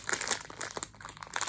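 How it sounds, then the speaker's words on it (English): Plastic bag crinkling in close, quick handling bursts while a shirt is unboxed, loud and crisp with no talk. "like a plastic bag"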